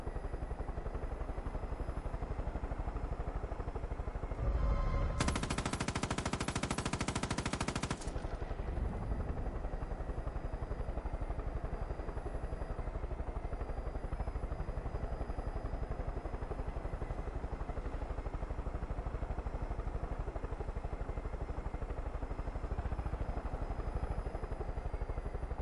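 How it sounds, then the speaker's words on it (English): A helicopter in the video game Far Cry 5 drones continuously with a thick, chopping rotor roar, close and loud, interrupted near the start by a short burst of rapid gunfire. "Helicopter controls are still very weird."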